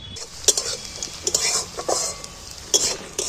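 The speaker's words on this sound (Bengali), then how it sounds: "দেখো পেঁয়াজটা কিন্তু ভাজা ভাজা হয়ে এসছে" Onion sizzles in a pan while a utensil stirs it, scraping and clinking against the metal in uneven strokes, close up, with no voices.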